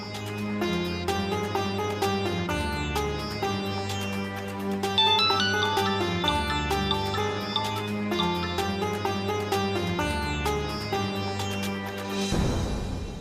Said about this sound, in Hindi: अब फोन भी नहीं उठा रही है